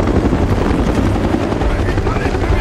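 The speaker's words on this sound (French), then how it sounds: "des hélicos" Helicopters in the monster film D-War: a loud, continuous rotor roar with a steady chopping pulse, close and filling the whole stretch without a break.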